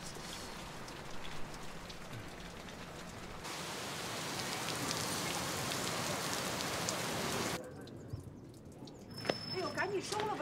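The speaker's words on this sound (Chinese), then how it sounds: "来了，下雨了" Steady rain pours down on a surface in a broad hiss, loud and continuous, then cuts to a quieter outdoor scene where birds chirp faintly and people talk.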